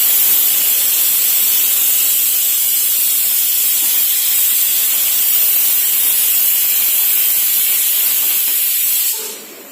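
Green chillies sizzle in hot tempering oil or ghee with a loud, steady, broad hiss that stays constant for most of the clip, then drops off abruptly near the end.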